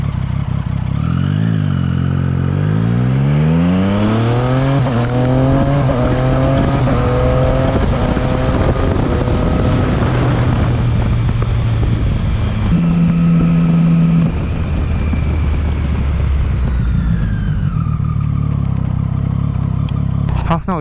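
Motorcycle ride in strong wind, picked up by a chest-mounted GoPro Hero 7 Black: a loud, continuous engine note climbing and shifting through gears, with steady wind roar throughout and no talking.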